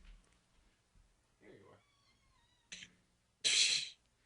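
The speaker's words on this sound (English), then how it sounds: "So now we get to listen to the cat howl from behind the closed door for the rest of the episode." A cat howls from behind a closed door, heard as faint, muffled drawn-out wails between quiet stretches, then a sharp louder burst near the end.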